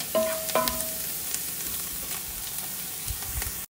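Onion and spices fry in ghee for kabsa, giving a steady close sizzle with soft crackles and a couple of brief metallic clinks from the pan early on.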